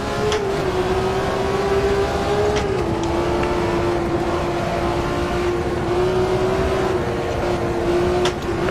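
BMW M1 Procar engine in Automobilista 2 at a wet Donington circuit, a loud steady high drone holding a near-constant pitch with a brief dip, close and continuous with no talk.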